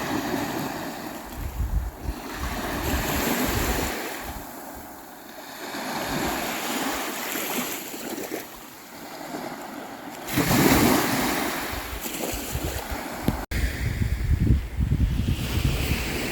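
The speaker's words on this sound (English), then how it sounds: "The magic and the power of these small waves" Small waves wash and break along the Baltic Sea shore at Visby, Gotland, a continuous rolling surf with periodic surges, heavy wind buffeting the microphone throughout.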